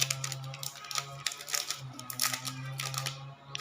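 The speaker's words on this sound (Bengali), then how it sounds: "প্রথমে এটার প্লাস্টিকটা ওঠাতে হবে" Protective plastic film is peeled off a new iQOO Z6 Lite phone, a series of close crinkling, crackling and ticking sounds over a faint steady hum, with no voices.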